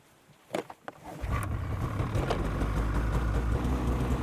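A 2020 Polaris Switchback Assault 850 snowmobile cranks with a few clicks and whirs, then its engine catches and settles into a loud, steady idle rumble close by.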